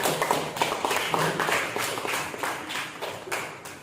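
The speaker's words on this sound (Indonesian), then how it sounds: "Tepuk tangan." Classroom clapping from a group of students, a run of distinct, irregular hand claps close by, fairly quick and uneven, with no talking over them.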